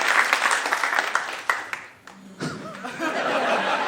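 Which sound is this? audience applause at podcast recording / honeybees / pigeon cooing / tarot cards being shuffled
audience applause at podcast recording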